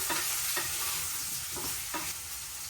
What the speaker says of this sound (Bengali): কচুটা আগে তেলে দিয়ে এখন কচুটা একটু ভাজা ভাজা করে দেয়